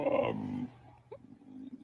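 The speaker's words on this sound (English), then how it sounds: "this is the dog that you would be glad you don't own" A dog gives a deep, rough growl, likened to a Bigfoot, loudest at the start, then trailing off into lower grumbling noises.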